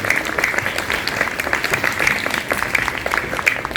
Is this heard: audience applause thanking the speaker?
yes